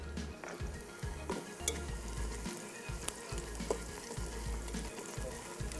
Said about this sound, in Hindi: ये प्याज हमारी जो है ब्राउन हो रही है